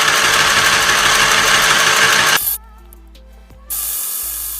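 A Singer Quick Stitch sewing machine winding its bobbin gives a loud, steady, high-pitched whir that cuts off abruptly, leaves a quiet lull, then resumes; no talking.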